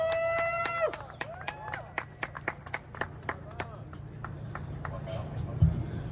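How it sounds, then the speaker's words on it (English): Scattered hand claps from a crowd at an outdoor Free Iran rally in New York City, sharp separate claps spread over several seconds rather than a dense roar, fairly distant, with a voice heard briefly at the start. "Please give a big round of applause for Salar Gholami."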